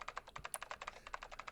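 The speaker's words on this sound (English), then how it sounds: "Oh, thank goodness the typing's done." Rapid keyboard typing sound effect from the video game Zero Escape: 999, a quick, even run of light clicky keystrokes, close and clean, with no talking over it.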